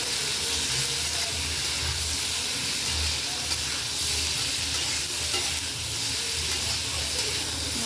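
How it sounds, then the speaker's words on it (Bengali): Cucumber pieces frying in a pan with spices, salt and turmeric, a continuous loud sizzle with hiss and occasional stirring scrapes, close up and without pause. "মশলার সাথে শসাগুলো দিয়ে ভালোভাবে আমি একটু ভেজে নেব।"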